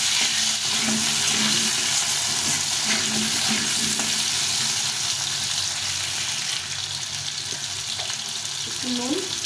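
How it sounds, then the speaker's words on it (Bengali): Diced potatoes frying in a pan with salt and turmeric make a continuous loud sizzle and crackle, with faint stirring clinks and a brief watery sound near the end. "আলুটা ভালো করে ভেজে নিতে হবে।"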